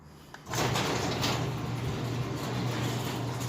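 A motorized garage door for a parking space starts closing abruptly after a brief quiet moment, then runs with a steady, loud mechanical drone to the end.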